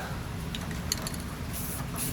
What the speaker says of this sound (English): Now let's spray this one.